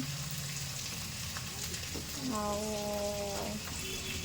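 Onions fry in a pan for biryani with a steady sizzle and bubbling, while a voice speaks partway through.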